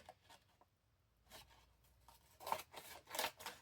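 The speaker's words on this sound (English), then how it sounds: "and then cut your pocket" Scissors snip through a paper envelope pocket in a few short crisp cuts, quiet at first and growing louder near the end, with no talking.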